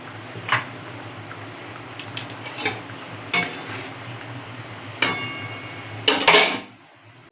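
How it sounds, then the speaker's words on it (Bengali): Spoon and utensils clink against a pan of simmering coconut curry as paneer pieces go in, a handful of sharp metallic taps and scrapes spaced irregularly over a faint bubbling background. "এবার আমি পনিরগুলো দিয়ে দেবো।"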